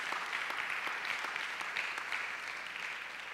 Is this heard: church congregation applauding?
yes